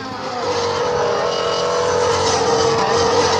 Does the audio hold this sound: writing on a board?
no